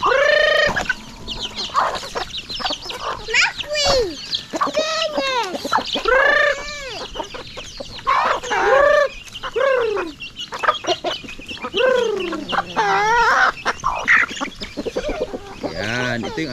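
Pet chickens cluck and squawk almost continuously in a busy, close chorus, with bursts of louder calls throughout and occasional human voices mixed in.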